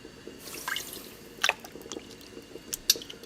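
Chicken dropped into a pot of hot water for pozole gives a few close wet squishes, drips and small splashes, scattered irregularly over a quiet kitchen background.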